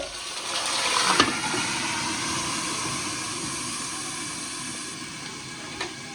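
A steady hissing sizzle fills the clip as water is poured into a hot pressure cooker of stuffed bitter gourds, with a sharper burst near the start and a faint clink late on.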